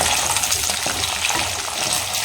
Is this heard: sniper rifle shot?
no